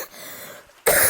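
A single harsh cough bursts out loudly at the very end after a brief, quiet lead-in.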